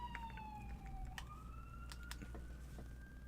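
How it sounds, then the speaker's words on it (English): Emergency vehicle sirens wail faintly from outside a room on a Friday night, their distant tones gliding up and down under a low steady indoor hum. "I can even hear sirens running around outside."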